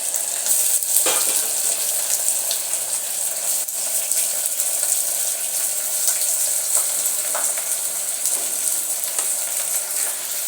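A large batch of onions for a stew fries in a pan with a steady, loud hiss and sizzle that continues without pause, occasional stirring scrapes and crackles rising above it.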